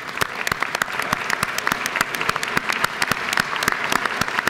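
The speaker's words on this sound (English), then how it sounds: "we'd just like to welcome you with a warm round of applause." A warm round of applause fills the Georgia House of Representatives chamber during a legislative session, with dense, steady clapping from many hands throughout and faint voices beneath.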